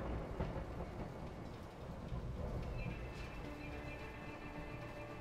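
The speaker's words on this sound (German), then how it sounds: "Let's time it with the thunder." Thunder rolling through a rainy storm in the video game A Way Out, a dense steady rumble with rain hiss throughout and a faint tonal game sound emerging partway.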